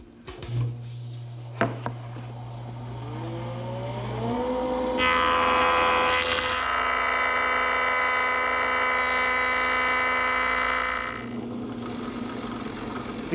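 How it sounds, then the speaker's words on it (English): A wood jointer spins up with a rising whine, then a loud, sustained cutting roar as a board edge feeds through with the fence at 10 degrees before it winds down. "the easiest way to do that is over on the joiner"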